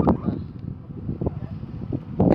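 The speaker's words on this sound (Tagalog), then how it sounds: "And mahangin din." Wind buffets the microphone outdoors at a fort in Bahrain, giving an uneven low rumble with gusty thumps throughout, moderately loud, with faint background noise.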